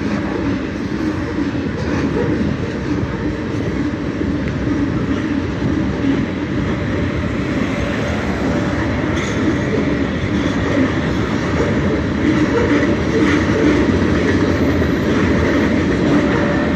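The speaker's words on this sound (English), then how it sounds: "Tank car train." A CSX freight train of tank cars rolls past at Emporia, Virginia, on the old Atlantic Coast Line railroad, giving a loud, continuous rumble with faint rhythmic wheel clatter that swells slightly toward the end.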